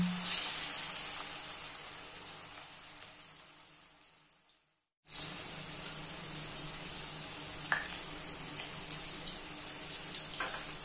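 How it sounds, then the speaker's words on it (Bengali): Bitter gourd pieces deep frying in hot oil give a steady, bright sizzling hiss that cuts out briefly midway, then resumes at a constant level. "ডিপ ফ্রাই করবো, মানে খুব ভালোভাবে ভেজে নেব একদম।"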